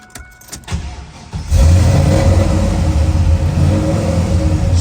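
A 1967 Chevrolet Camaro pro-touring car with an aggressive cam fires up after some quiet clicking, then settles into a loud, loping, rumbling idle close by, with no talking.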